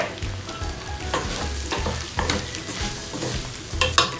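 Potatoes frying in a pan of beef empanada filling give a steady close sizzle, broken by repeated stirring scrapes and clatter, with no voices.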